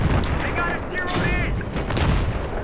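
Battlefield 3 gunfire during a tank battle, with dense, continuous shots and booms throughout, loud and busy, with brief tonal game effects mixed in.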